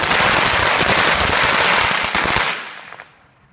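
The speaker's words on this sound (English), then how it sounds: "some firecrackers I've twisted together" Six 16-count packs of firecrackers twisted together crackle loudly and continuously in a dense, rapid string for a couple of seconds, then cut off as the noise fades away.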